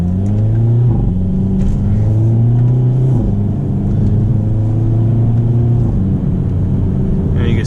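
A Hyundai Elantra N in manual mode, paddle-shifting up through the gears on the road: steady close engine drone with rising pitch, a shift break near one second and another near three seconds, then more rumbling pull.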